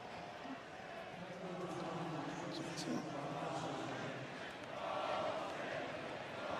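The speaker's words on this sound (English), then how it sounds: "So the crowd here voicing their displeasure," Stadium crowd at a San Jose State versus Stanford football game booing and grumbling in displeasure after a Stanford penalty, a broad distant roar swelling and easing, with a commentator talking over it.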